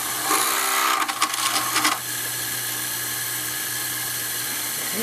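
A small drill bit spinning into metal on a Sherline mill with a rotary table, a high whining buzz for about two seconds that drops away to a steady motor hum afterward.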